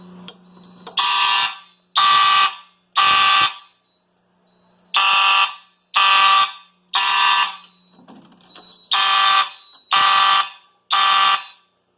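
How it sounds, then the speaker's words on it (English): A Simplex fire alarm sounds in loud, evenly spaced electronic horn blasts during a system test, about ten of them, with brief pauses between. "I'm going to grab my Simplex AH key and we're going to sound the alarm."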